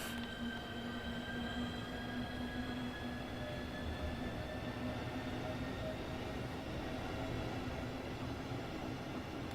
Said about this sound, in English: Another lovely train.